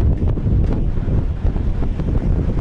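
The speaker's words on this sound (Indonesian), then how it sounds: "anginnya udah makin kencang" Strong night wind buffets the open deck of the passenger ship KM Kelud at sea, a loud continuous rumbling roar with gusty surges and no talk.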